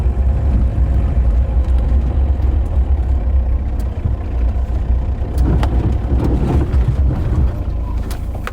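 A car drives steadily with a continuous low engine and road rumble, no clear slowdown to a halt evident, loud and close throughout.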